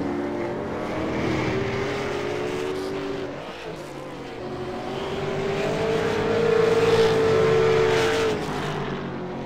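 V8 Supercars race cars lapping the Virginia circuit, engines droning steadily at a distance with rising and falling pitch as cars pass, and no talk over them.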